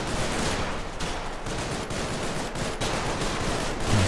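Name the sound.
gunfire from Combat Mission Market Garden video game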